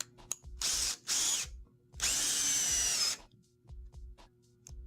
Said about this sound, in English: With composites, it's usually required that you pre-drill before you face screw.